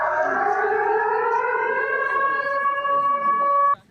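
Tsunami warning siren sounding after a magnitude 8.8 earthquake off Russia's Kamchatka coast, a loud steady wailing tone held for several seconds before cutting off abruptly.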